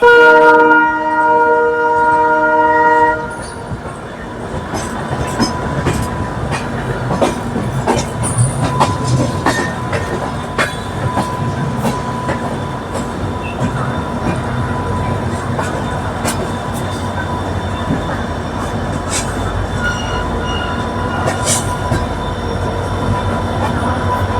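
A passenger train on the Kolkata to Amritsar route nearing Saharanpur Junction, heard from inside as a steady rumble and clatter of wheels on rails with occasional squeals, continuous throughout.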